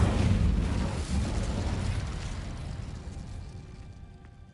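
The Incendio fire spell bursts in a witchcraft-themed game, a loud whooshing blast of flame at the start that rumbles and slowly fades away over several seconds.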